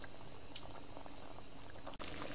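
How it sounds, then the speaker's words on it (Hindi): Water comes to a rolling boil over a high flame in a pot of mutton cooking for namkeen gosht, giving a steady close bubbling and popping. A brief clunk interrupts it near the end. "ये तेज़ आंच पे हमने इसको इतना पकाया कि पानी में उबाल आ गया है।"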